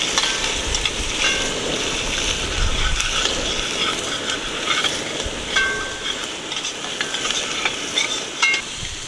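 Garlic fries in a pan for Chorai Bhaji cooked outdoors in a backyard, giving a steady close sizzle mixed with a spoon scraping and stirring throughout.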